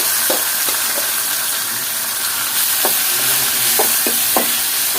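Red amaranth greens tossed into garlic frying in oil, a loud steady crackling sizzle with occasional light clinks of a utensil against the pan.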